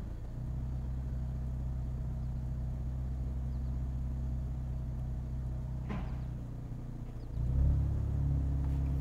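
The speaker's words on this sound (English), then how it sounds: "And the car will actually start going forward." A manual-transmission car with Brembo brakes creeps forward as the clutch engages, a steady low engine rumble that dips and then swells heavier near the end.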